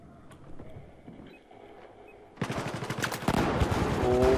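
Rapid bursts of gunfire in Battlefield 4 on PS4 erupt partway through, loud and dense after a quieter stretch with faint background sounds.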